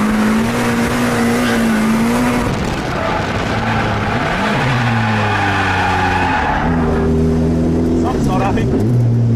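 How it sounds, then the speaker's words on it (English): A Nissan 180SX with a loose wastegate, which made it lose power, revs loud and close, its engine pitch rising and falling unevenly while a voice talks over it. "the wastegate was coming loose and causing the car to lose all power"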